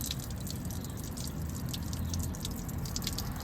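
Water drips steadily from a cracked hose on a Suzuki Cappuccino, a close, continuous patter of small drops with no one talking.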